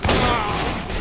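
Loud, dense gunfire from a shooting video game fills a single second, a rapid chattering burst like a machine gun, with no voices over it.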